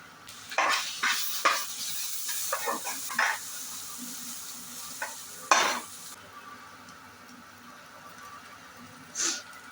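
Ginger garlic paste hits hot oil in a pan while cooking gobi fried rice, sizzling steadily under repeated scraping strokes of a spoon against the metal, with a few sharper clinks and no talk.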